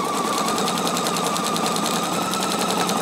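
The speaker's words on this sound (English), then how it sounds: "and so now I'm going to sew this." PFAFF Expression 710 sewing machine sewing a stitch: a rapid, even mechanical chatter of needle strokes with a steady motor whine, close and continuous, with no voices.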